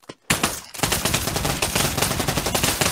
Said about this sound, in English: Science says to empty the gun.